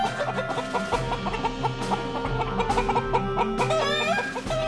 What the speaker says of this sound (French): La poule émet différents sons pour communiquer avec ses congénères.